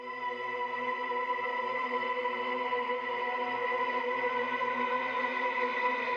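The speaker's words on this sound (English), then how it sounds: "Which is pretty much a quiet pad." Calming Spirit, a quiet pad sample from Vocalize 2 Gravity Pack 4, holds a smooth, steady, sustained tone with a dark, layered texture, playing alone with no rhythm or talk.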